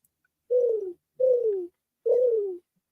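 A person imitates a dove's cooing with their mouth, three separate drawn-out coos with short pauses between them, clear and close with no talking.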